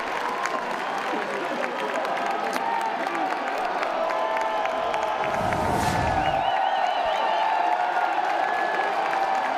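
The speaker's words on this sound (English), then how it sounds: "Listen to this crowd on 3-1." College baseball crowd at an NCAA game between North Carolina and East Carolina, a steady loud roar of cheering and clapping with whoops throughout, swelling slightly toward the end.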